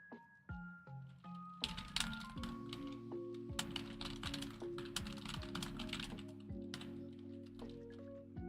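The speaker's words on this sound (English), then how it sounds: "she's just trying to walk across my keyboard" A cat stepping across a computer keyboard, with irregular clusters of close, clattering key presses over steady electronic game tones from Pokemon FireRed or LeafGreen.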